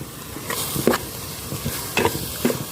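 Boiled cassia leaves and chili are stirred in a pot for a red ant egg curry, giving a few scraping, swishing strokes at a steady, unhurried pace over a soft sizzle, close by with no talking.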